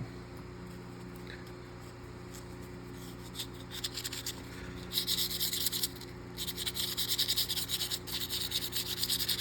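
Scrubbing crud off the brass of a pocket knife, close and quiet rubbing strokes that grow into bursts of brisk scratchy scrubbing over a steady low hum.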